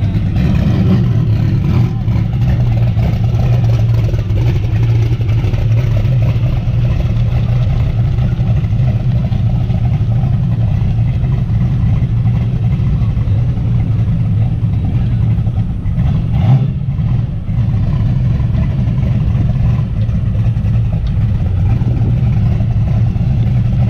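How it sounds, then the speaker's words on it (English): A street car rumbles at a dragway in Rockingham during a shootout, its engine a steady loud low drone that holds for a long stretch with slight surges and dips, heard alone without talk. "Turbo John, y'all about to make a pass."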